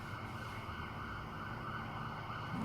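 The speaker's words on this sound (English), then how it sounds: "there's some sirens going off out there" Emergency vehicle sirens wail outside at a distance, a faint, steady rising and falling tone that continues throughout with no speech.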